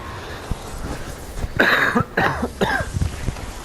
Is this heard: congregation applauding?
no